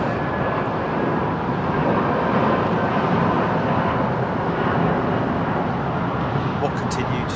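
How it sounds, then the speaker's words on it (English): Aircraft heading east at London Heathrow Airport, a steady broad engine roar that stays loud and constant throughout, heard from a distance. "this aircraft is heading in an easterly direction"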